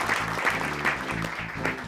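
Studio audience applause for a former deputy prime minister on a Macedonian comedy show, a brisk, continuous patter of many hands clapping close and loud for a couple of seconds.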